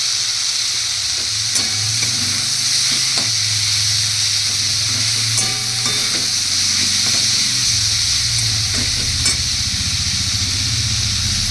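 Turmeric, cumin and coriander powder fry in a small amount of oil in a pan for a moong dal dish, giving a steady, close sizzle with occasional stirring scrapes throughout.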